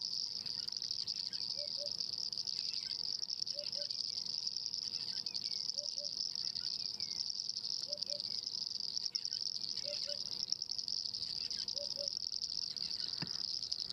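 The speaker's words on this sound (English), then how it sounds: "Some wonderful sounds coming from this area at the moment. Bird calls and the frog calls." At dawn in the African bush, a steady high insect drone fills the background while a frog or bird repeats a soft paired call every two seconds or so, faint and distant.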